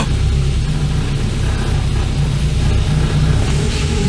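An abandoned Volkswagen Scirocco Storm's engine runs steadily close up as the clutch comes up in first gear, a continuous low rumble with no obvious revving.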